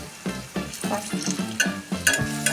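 Dahi bhalle lentil dumplings deep-frying in hot oil in a kadai, a close bubbling sizzle with bursts of stirring and ladle clinks as oil is spooned over them, no talk.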